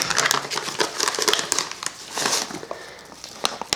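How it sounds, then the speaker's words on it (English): Plastic crinkling and rustling as scissors cut open a bag of Alaskan gold paydirt, irregular crackly handling sounds close by with no speech. "Let's get the scissors."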